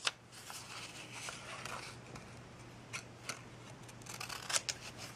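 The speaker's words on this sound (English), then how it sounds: "you're going to cut off 2 petals." Scissors snip through paper flower templates, cutting off petals for a paper rose craft: a string of faint, close clicks and rustles, quiet throughout with a few sharper cuts near the end and no talking.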